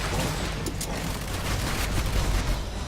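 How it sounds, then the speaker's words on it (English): Cannon fire in a video game, a dense burst of booming, crackling blasts, loud and continuous over about three seconds with no clear pauses. "Cannon firing!"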